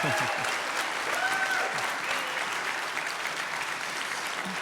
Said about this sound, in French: d'applaudir plus fort que les autres groupes nos 3 panélistes